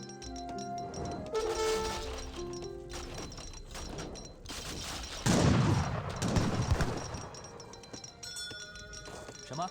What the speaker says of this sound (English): Arquebus do find a good fire there.